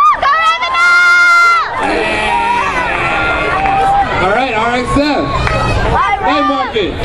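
A lively night market crowd cheers and shouts, with excited children's voices and steady babble filling the scene, loud and close throughout, rising in bursts of whoops and calls.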